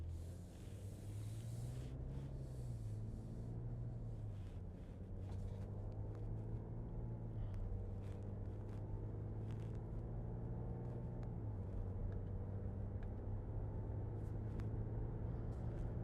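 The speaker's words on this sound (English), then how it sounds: "This is a different sound in the interior. It sounds like a 6-cylinder, not a V8, but it's not bad." Heard from inside the cabin, the Hurricane six-cylinder engine of a 2026 Ram 1500 accelerates as a faint, muffled drone. It climbs in pitch and drops back at each gear shift over about sixteen seconds, with no talk.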